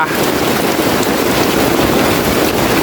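Heavy rain pours down at night in a misty tropical rainforest, a dense, steady hiss of falling water that stays loud and unbroken throughout, with no voices.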